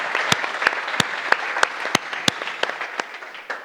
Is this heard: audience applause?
yes